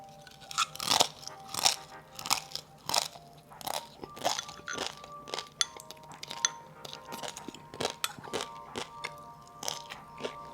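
Crispy Hong Kong style pan-fried chow mein noodles crunched up close, a steady run of sharp bites and chews with faint clinks of cutlery, no talking.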